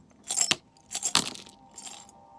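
Small metal charms are dropped out for a pick-a-card reading, landing in three quick jingling clatters, close and bright, with short quiet gaps between them.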